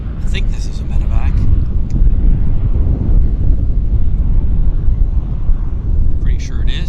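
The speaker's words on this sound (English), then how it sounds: "I think this is a medevac." A medevac aircraft at Vancouver YVR airport roars past as a loud, broad rumble mixed with wind buffeting, and brief voices come through at the start and end.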